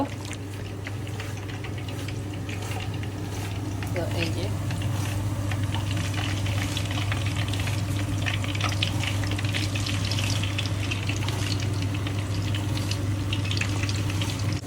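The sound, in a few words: seekh kebabs frying in hot oil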